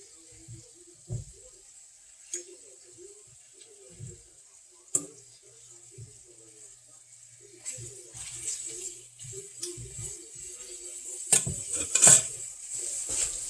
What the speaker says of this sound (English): you just want to keep stirring this so it doesn't burn on the bottom